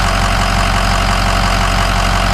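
Ford Powerstroke 6.0 diesel truck engine idling, suspected of a head gasket or EGR cooler fault: a loud, close, steady low rumble with an even rhythmic diesel clatter throughout.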